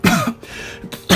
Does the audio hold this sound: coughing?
yes